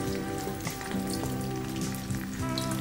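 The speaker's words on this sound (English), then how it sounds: "Drop in the prawn." Prawn tempura dropped into oil heated to 180 degrees sizzles steadily, a dense continuous crackle of frying with small pops, close and fairly loud throughout, with no voices.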